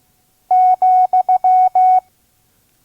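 Loud, clean Morse code tone spells out a comma in a slow training pattern, two long dashes, two short dots and two long dashes, followed by silence and a faint click at the end.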